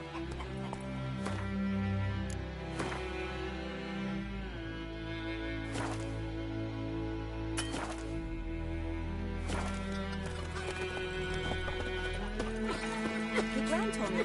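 Roach the horse galloping in The Witcher 3 video game, a steady close clip-clop of hooves under a sustained musical score, with occasional neighs and a voice speaking briefly.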